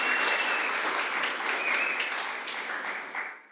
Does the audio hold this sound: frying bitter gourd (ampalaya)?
no